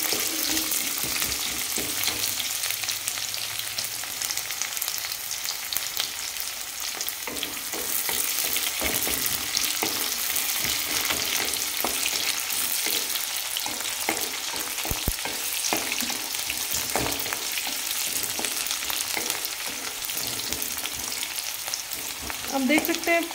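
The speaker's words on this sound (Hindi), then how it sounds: "प्याज को हम थोड़ा अच्छे से फ्राई करेंगे" Onion fries well in a pan, a loud, dense sizzle close by that runs unbroken, with occasional stirring scrapes and small clatters of a spoon against the pan.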